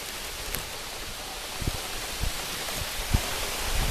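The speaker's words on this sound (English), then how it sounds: "And it's starting to rain." Rain starts falling in an apple orchard, a soft broad hiss with a few scattered louder drops and taps, no talk.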